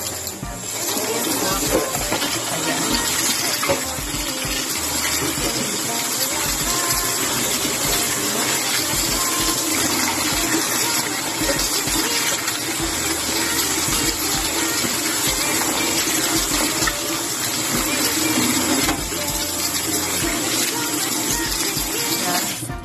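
Cold water running steadily from a tap while rinsing sliced cucumbers for sweet pickles, a continuous loud gushing hiss with faint background noise throughout.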